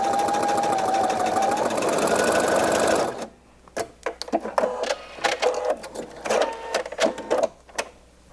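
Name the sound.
sewing machine stitching with a twin needle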